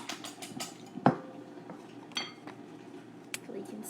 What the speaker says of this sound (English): So we're going to whisk these eggs.